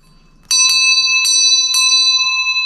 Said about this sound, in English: It is a heavy brass eagle bell.